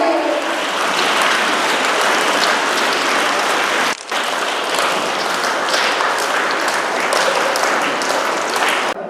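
A seated audience at a Lions Club reading-project function applauds in a loud, dense, continuous wash of clapping that pauses briefly before resuming at full strength.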